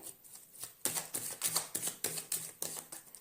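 Tarot cards are shuffled by hand in a series of quick, crisp riffling bursts that come in a steady rhythm, close and fairly quiet, with no talking.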